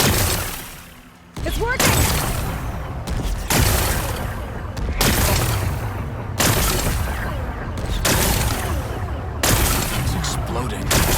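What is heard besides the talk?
rocks blasted and exploding in Horizon Forbidden West video game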